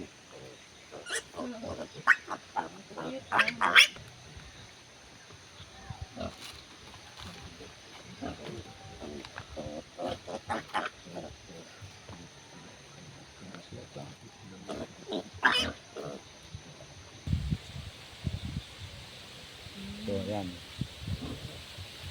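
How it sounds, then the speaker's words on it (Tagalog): Native pig grunting in repeated short bursts during castration in a farmyard, with people talking nearby and rustling around it. "So magbabating po tayo ng ating ah, native pig."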